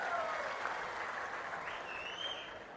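A crowd at a political speech by Chandrababu in Narsannapet claps together, a continuous fairly distant wash of applause that slowly thins toward the end.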